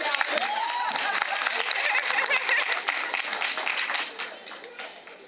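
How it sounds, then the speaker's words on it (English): Audience applause at a recognitions event, a dense wash of many hands clapping with cheering voices mixed in, steady and fairly loud before tapering off near the end. "Clap. Come on, y'all."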